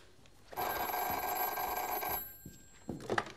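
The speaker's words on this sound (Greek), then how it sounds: "Ε, σηκώσ' το τηλέφωνο." A telephone bell rings loudly in one long burst, then stops; a short rustle and a brief second ring-like sound follow.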